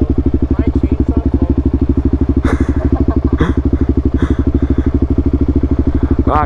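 A motorcycle engine thrums loudly and close with a rapid, pulsing rhythm, the revs holding high throughout, with brief clatters and a voice faintly underneath.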